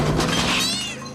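A cat in a film scene lets out a single loud, drawn-out yowl lasting about a second, close and harsh, ending abruptly.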